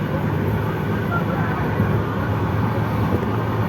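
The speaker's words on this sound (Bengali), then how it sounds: "বাইরে তো ট্রেন ছুটছে" Steady low rumble of the Coromandel Express running between West Bengal and Odisha, heard from inside the carriage as a continuous, moderately loud roar with no clear beats or voices.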